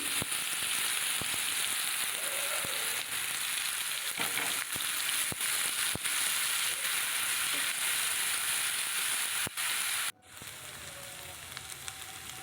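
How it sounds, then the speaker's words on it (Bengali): Spice paste frying in a pan with whole garam masala, bay leaves and dried red chillies, a dense continuous sizzle with scattered stirring clicks, then dropping to a quieter hiss near the end. "এটাকে ভালো করে কষিয়ে নেব।"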